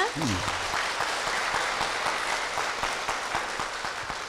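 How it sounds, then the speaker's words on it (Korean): A church congregation applauds with dense, steady clapping that fills the whole stretch, and a voice is briefly heard at the start. "박수로 모시겠습니다"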